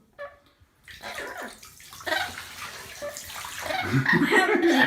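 Water splashes and runs in bursts as a parrot is bathed, close by, growing busier toward the end, with some soft laughter and voices mixed in.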